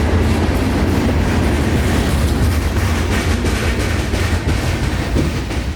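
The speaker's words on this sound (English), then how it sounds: "CSX aggregate hoppers loaded with rock are making their final miles from Kmac, Georgia to Davenport, Florida." A loaded CSX freight train of rock aggregate hoppers rolls past close by, a loud continuous rumble with rhythmic clickety-clack of wheels over rail joints and faint metallic squeal, no voices.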